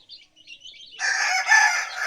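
Young chicks and chickens in a coop, a few of the chicks weak and unable to walk, give a faint scattered peep before a steady, fairly loud run of clucking and crowing-like calls that fills the rest of the clip, with no talk.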